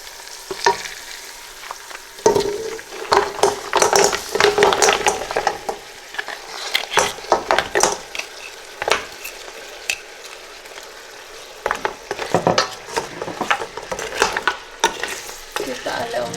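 Spinach being stirred into spiced oil in a pan, with repeated scraping strokes and a steady sizzle that rise and fall in irregular bursts, close and moderately loud, with no talking.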